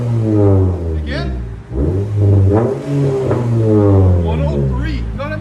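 A 2013 Cadillac ATS 2.0L turbo with a Vibrant resonator and muffler delete revs repeatedly, its exhaust rising and falling in loud, deep blips close by.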